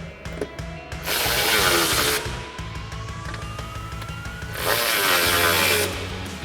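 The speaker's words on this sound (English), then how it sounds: "we can grab our 13mm socket and tighten everything down" A 13mm socket on a ratchet or power tool tightens step bar bracket bolts on a 2024-2025 Toyota Tacoma, producing bursts of ratcheting and whirring that rise and fall, with quieter clicking between them and no speech.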